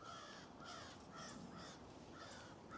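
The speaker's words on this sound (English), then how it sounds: "the crows are out." Several crows caw repeatedly in bursts across a snowy rural driveway outdoors, the calls moderately distant over a steady low background rumble, with no one talking.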